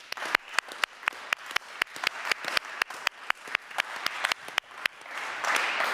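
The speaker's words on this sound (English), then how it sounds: "Big applause here." Applause from an audience at a virtual climate hackathon event in Zurich: sharp, individual claps at a steady uneven rhythm, close and clear rather than a large crowd, swelling into a denser patch at the end.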